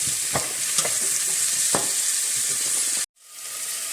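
Bell pepper fries in a pan for pumpkin curry, a close sizzle broken by a few scraping stirs, and the sound cuts off abruptly near the end before it fades back in.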